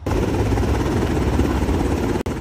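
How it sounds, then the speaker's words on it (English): A military assault helicopter passes low over a dense South Shore Chicago neighborhood during a federal raid, its heavy rotor beat and engine roar loud and continuous, with a brief dropout near the end. "jolted out of bed by the sounds of military helicopters"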